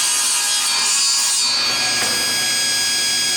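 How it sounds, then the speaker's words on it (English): A table saw cross-cuts a piece of wood at an angle with the stock pushed along a miter gauge, producing a loud, continuous, high-pitched blade whine and rasping cut close up, with no talking. "And there you have a cross cut with an angle on it."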